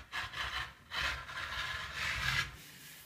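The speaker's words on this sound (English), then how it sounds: "It's nothing better than a rotary cutter, I swear." A rotary cutter rolls through fabric in three soft, scraping strokes, quiet and close, with brief pauses between cuts.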